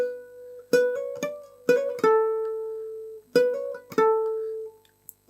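Baritone ukulele played alone and close, several plucked notes with quick 16th-note trill ornaments on a melody, each ringing out and decaying before the next pluck.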